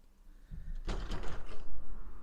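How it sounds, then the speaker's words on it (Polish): A balcony door in a rented flat in Bukharest's Ferentari district is opened with a soft click, then a broad rushing swell of outside air and street noise that grows and lingers. "Otwieram drzwi."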